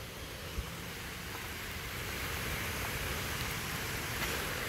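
Rain pours under a huge tree on Coconut Island in Hilo, Hawaii, a steady, even hiss of drops that holds at the same level throughout, with no voices.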